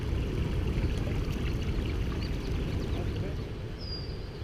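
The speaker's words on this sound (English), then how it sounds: "Freshwater Creek." Freshwater Creek in California flows with a steady, close rushing wash of water, and a brief bird call rises near the end.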